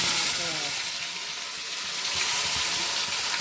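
Cumin seeds crackle and sizzle in hot oil in a pan, a dense, close, continuous frying hiss with fine popping throughout.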